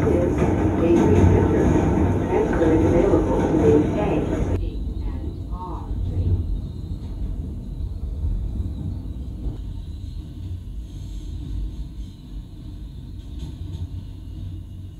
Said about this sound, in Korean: 노이즈 캔슬링 성능 확인을 위한 지하철 소음